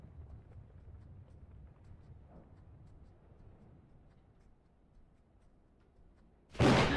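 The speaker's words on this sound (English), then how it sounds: "That's a hell of a storm." Low rumbling from a video game thunderstorm churns quietly in the background, then a sudden, loud crack of thunder bursts in near the end.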